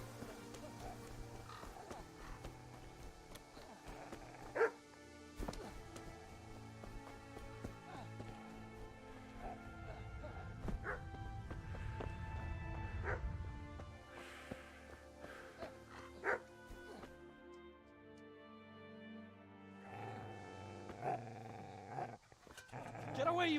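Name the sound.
dog barking and growling in a video game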